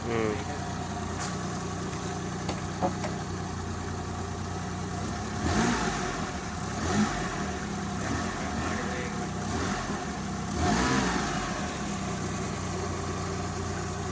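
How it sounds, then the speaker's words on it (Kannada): A Maruti 800 car engine idles with a steady low rumble, with a few brief swells in revving and faint background noise around it. "ಇದು ಇಂಜಿನ್ ಐಡಿಲ್ ಸೌಂಡಲ್ಲಿ ಹೀಗೆ ಬರ್ತದೆ"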